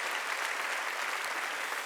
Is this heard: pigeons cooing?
no